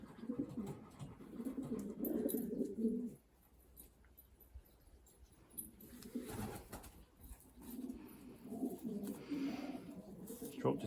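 Young racing pigeons coo in low, throaty rolling bursts, one long stretch at the start and more after a short lull, with faint background noise between.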